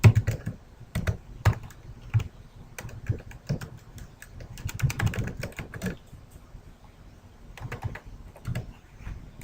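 Close computer keyboard typing while editing a Prezi presentation, irregular bursts of clicking keystrokes with short pauses between flurries.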